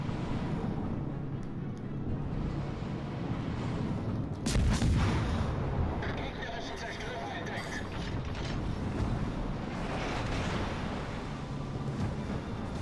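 Heavy naval gunfire from warships in World of Warships: Legends, a German destroyer and cruiser in battle, rumbles continuously with a loud booming salvo near the middle, layered over engine and mechanical noise and faint game voice lines.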